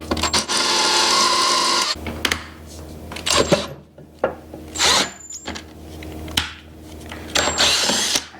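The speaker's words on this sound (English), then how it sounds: "These aggressive drill bits that just chomp their way in instead of drilling nicely." A power drill whirs in several bursts of varying length, an aggressive bit grinding into metal on a mill with short pauses between, close and loud.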